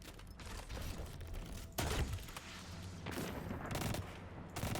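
Heavy ammo gunfire in a Destiny-style Nightfall mission, sustained rapid bursts with heavy booming impacts and mechanical clatter, loud and continuous throughout with no talking.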